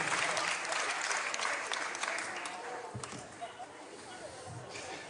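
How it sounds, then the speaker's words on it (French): A comedy show audience applauds a comedian, with dense, loud clapping that fades gradually as a voice talks over it. "je demande d'applaudir, s'il vous plaît, Monsieur François de Tulle"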